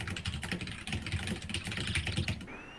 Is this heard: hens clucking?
no